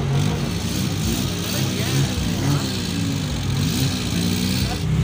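A Suzuki Khyber car engine runs steadily with a low rumbling drone throughout, while people talk nearby over it.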